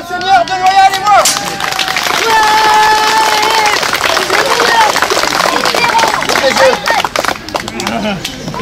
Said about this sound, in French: Ah, applaudissez bien le Seigneur de Loyal et moi.